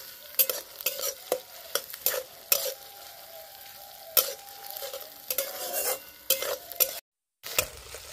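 Onion, ginger paste and chopped tomato being stir-fried in a pan, with repeated scraping stirs of a spatula over a steady sizzle, close and moderately loud, with a brief silent gap near the end.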